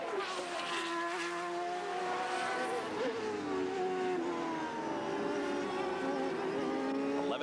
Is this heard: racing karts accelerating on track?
yes